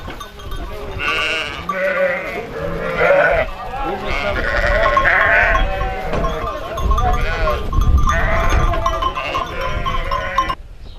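Sheep bleat repeatedly in a farm pen during seasonal vaccination of small livestock against poisoning, with overlapping calls from several animals and people talking nearby.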